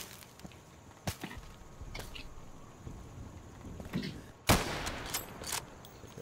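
Gunfire in a shooter video game, with a few sharp isolated shots spread across the clip, the loudest near the end, over a low background of game noise.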